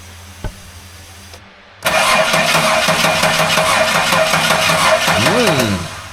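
A rebuilt GM L67 V6 cranks and catches after a brief pause, then settles into a loud, steady idle with a quick rev swell near the end, close by and without speech.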